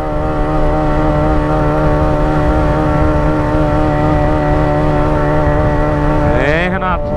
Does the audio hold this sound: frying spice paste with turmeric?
no